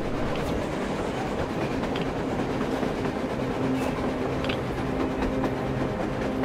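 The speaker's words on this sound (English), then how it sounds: "A train! A damn train on the surface!" A train rolls past on the surface in the video game Metro Exodus, a steady loud rumble of wheels and carriages that runs unbroken the whole time with no talking.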